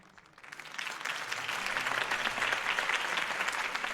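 Crowd applause in the Batman Telltale Series video game, a steady wash of clapping that builds in the first half-second and holds loud and even, with no voices on top.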